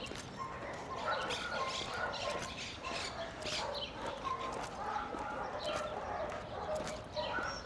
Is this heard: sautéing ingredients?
no